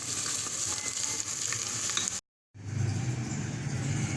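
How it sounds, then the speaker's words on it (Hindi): Sliced onions frying in hot oil in a pan for a paye dish, a steady loud sizzle that cuts out abruptly for a moment and then resumes, with no talking. "ऑयल डाल रही हूँ मैं, ये प्याज़ें डाल रही हूँ, इसको ब्राउन कर लूँगी, लाइट ब्राउन"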